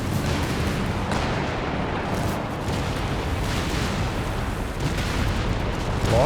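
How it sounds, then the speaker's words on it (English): Tank battle in the Company of Heroes 3 video game, heard as a dense, constant roar of distant artillery and explosions rumbling without a break. "Big old tank battle here."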